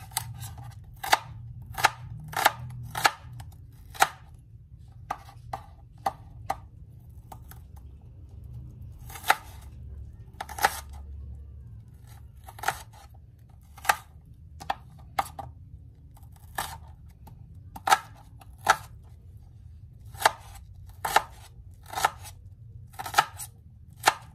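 A knife chops tomatoes and onions on a cutting board, sharp crisp taps repeating in irregular bursts over a low steady background hum, close and distinct with no talking.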